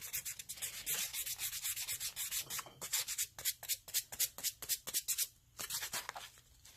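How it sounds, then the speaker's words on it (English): A glittered Easter egg is rubbed with sandpaper near its middle seam, making quick rhythmic back-and-forth scratching strokes. The strokes are close and crisp, with one brief pause before they resume. "So try and get your sandpaper as close as you can to where that middle seam is."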